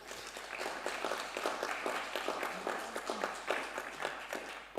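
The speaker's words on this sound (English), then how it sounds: "Applause, please." Quiet, distant-sounding clapping from a conference audience at an energy event, an even patter of hands that continues for several seconds without speech.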